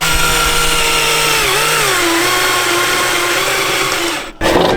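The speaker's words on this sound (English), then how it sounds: "now I gotta drill 2 holes in my strut tower and mount her up" A power drill bores two holes into a car's steel strut tower, its motor whining loud and steady close up, pitch sagging slightly as the bit bites, then cutting off abruptly near the end.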